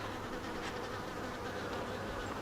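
Dense, steady droning buzz of many honey bee workers and soldiers at an open hive, close and continuous with no pauses; no talking.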